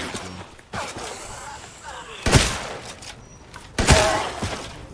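Gunshots fired in the survival horror video game Resident Evil 8, two loud sharp blasts about a second and a half apart over a murky game soundscape.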